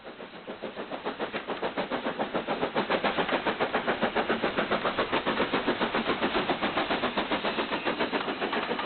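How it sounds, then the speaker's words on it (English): A British Railways steam locomotive pulls away from Bewdley station with a train bound for Bridgnorth on the Severn Valley Railway, its steady rhythmic chuffing building and holding at a close, even pace. "The engine is seen leaving Bewdley with a train for Bridgnorth on the Severn Valley Railway."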